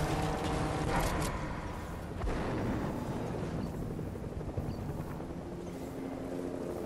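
A helicopter's steady whirring rotor drone in Fortnite, loud and continuous, with a sharper burst of noise near the start.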